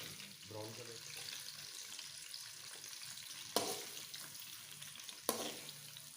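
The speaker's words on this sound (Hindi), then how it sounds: "इसमें शामिल कर देते हैं प्याज़ों को ब्राउन कर लेते हैं" Onions frying in a pan until brown, a steady low sizzle with two sharp clatters of a utensil against the pan.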